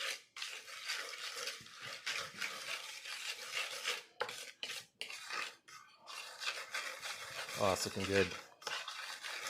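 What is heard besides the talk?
stirring a spice mixture for blackened halibut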